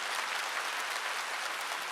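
A church congregation at a revival meeting claps hands together, a dense, steady burst of many hands applauding at once, fairly close and without pause for the whole moment.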